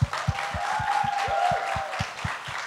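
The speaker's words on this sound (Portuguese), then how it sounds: "Mais aplausos, mais aplausos." Applause from a lecture audience, steady broadband clapping for nearly three seconds with a faint sustained tone and a regular low thumping beat underneath.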